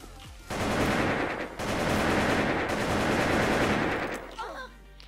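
Sustained automatic gunfire from the online shooter Wolfteam, loud and dense, running nearly continuously with a brief break, then fading near the end.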